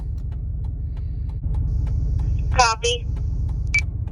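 Steady low engine rumble from a car driving during a Motorola DTR550 radio range test, with a brief radio voice transmission and a short beep cutting in over it.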